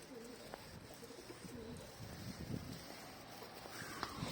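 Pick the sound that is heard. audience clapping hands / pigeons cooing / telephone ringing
pigeons cooing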